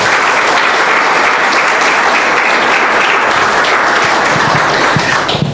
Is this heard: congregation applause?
yes